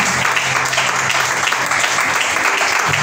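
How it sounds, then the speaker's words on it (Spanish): Church congregation clapping hard in a dense, continuous wash of applause, loud and close, lasting the whole short stretch without pause. "hágale fuerte las palmas a Cristo"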